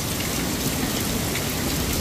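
Heavy rain pours down outdoors near a metro station at dawn, a dense, loud, unbroken hiss of drops striking surfaces with no voices.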